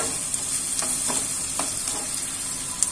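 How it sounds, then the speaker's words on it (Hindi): Onion fries in a pan for a spicy aloo kundru dry dish, with a steady close sizzle and faint crackles throughout and no voices. "प्याज को हमें यहाँ पे हल्का सा सॉफ्ट होने तक भूनना है."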